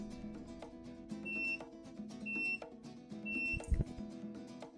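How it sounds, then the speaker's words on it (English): A crock pot signals the end of a ten-hour cook with three short electronic beeps spaced about a second apart, faint against quiet kitchen room tone, ending in a brief clunk. "10 hours have passed, and my crock pot just beeped."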